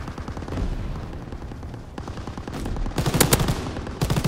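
Rapid bursts of World War II-era gunfire in a multiplayer shooter game, loud and overlapping, with heavier clusters of shots toward the end and no talking.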